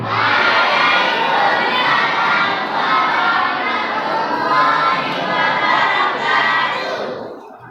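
A large audience roars back the Islamic greeting during a religious talk, a loud, sustained wall of many voices shouting together, close and continuous before tapering at the end.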